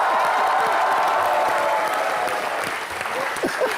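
The studio audience of the Comedy Night With Kapil show claps loudly and continuously for guests Shraddha Kapoor, Siddharth Malhotra and Ritesh Deshmukh. The applause is thick and sustained, with faint crowd voices underneath.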